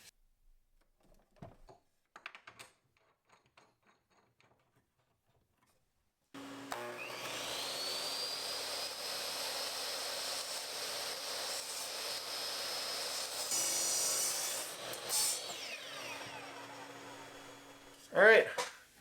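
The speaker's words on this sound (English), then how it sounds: "bring this over the chop saw" A chop saw cuts a wooden board for a corner bench, a loud sustained whining roar from about 6.5 to 18 seconds that rises in pitch as the blade frees. A few clicks and handling noises come before it starts.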